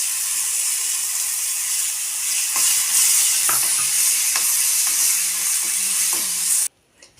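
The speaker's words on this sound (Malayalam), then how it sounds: "ഇനി മുന്തിരി ഒന്ന് വറുത്തെടുക്കാം." Raisins fry in hot ghee with a loud, steady crackling sizzle and occasional scraping stir taps, cutting off abruptly near the end.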